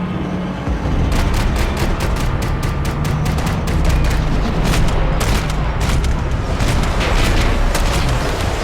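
Sustained gunfire in Max Payne 3: dense, loud volleys of sharp shots and booming blasts run almost continuously, with rapid bursts stacking over a heavy rumbling bed.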